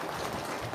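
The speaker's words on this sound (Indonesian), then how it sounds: "Tepuk tangan dulu dong buat Mas Abi yang Membalisa." Brief burst of audience clapping, dense and steady, from a crowd filling the room.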